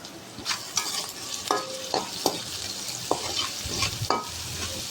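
Onions frying in a pan, with a steady background sizzle and repeated clinks and scrapes of a spatula stirring, close and moderately loud, no voices.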